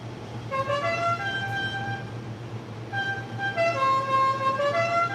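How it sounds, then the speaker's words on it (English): A truck's musical Dukes of Hazzard horn plays its tune twice outdoors, loud and bright, with a steady engine rumble underneath and no talking. "my dad's gonna do the honk again"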